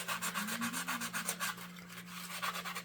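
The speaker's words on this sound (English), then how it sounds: "to sand off any of that laser schmutz that might be showing up" Laser-cut wood flower pieces are being sanded by hand, with a steady back-and-forth rubbing rasp in quick repeated strokes, close and fairly loud, running continuously over a low steady hum with no voices.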